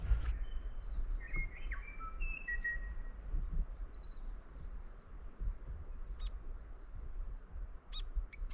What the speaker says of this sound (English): The fantail is definitely my favorite bird.